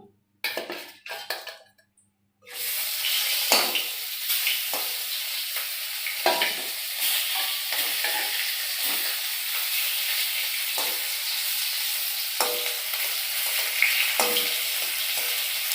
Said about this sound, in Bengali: এই হয়ে গেছে এই মাছটা ভাজা।